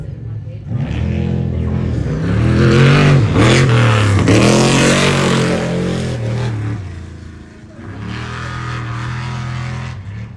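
Off-road race trucks tear through a high desert race course, engines revving and roaring as they pass close by in loud, overlapping surges, with a voice talking over the racket.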